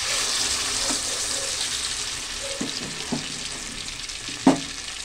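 Ground lentils frying in hot ghee give a steady, close sizzle with a few soft spoon taps and one sharper knock near the end, no voices.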